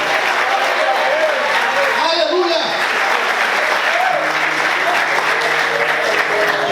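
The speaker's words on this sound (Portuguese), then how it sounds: "Será que você pode aplaudir o Senhor por isso?" A church congregation applauds during a sermon, a loud, continuous wash of clapping with voices calling out over it throughout.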